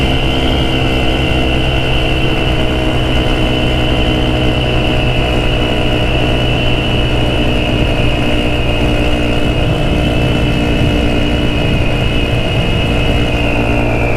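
A GY6 150cc scooter engine, its exhaust loose and nearly falling off, drones loudly and steadily while riding on an early-morning road, a constant close engine hum with a high whine above it and no talk.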